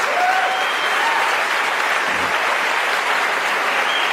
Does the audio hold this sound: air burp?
no